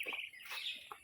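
Ducks on a small flock kept by their owner, a few short quacking calls in quick bursts, close and moderately loud with a brief pause between them.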